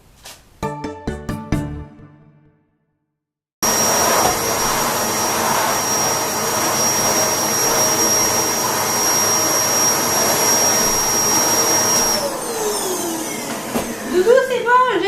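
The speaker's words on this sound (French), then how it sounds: "je vais me sécher les cheveux" A hair dryer drying hair switches on after a short musical passage and brief silence, giving a loud, steady whooshing whine that holds for several seconds before its pitch drops and it winds down.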